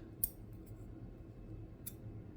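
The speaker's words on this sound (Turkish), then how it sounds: "Bir tane daha bir karış köstek keseceğiz." Two short, sharp snips of scissors cutting fishing leader line for a sea bass rig, close and quiet, separated by about a second and a half of near silence.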